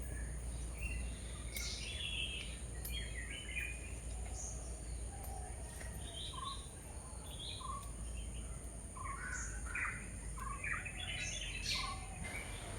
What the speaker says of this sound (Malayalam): പലതരം കിളികളുടെ ശബ്ദങ്ങൾ നിങ്ങൾക്ക് ഇതിലൂടെ കേൾക്കാം